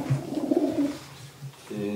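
Racing pigeons coo close by, a few low, soft rolling calls in short phrases with a brief pause between them.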